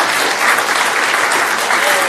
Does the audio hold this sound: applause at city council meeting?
yes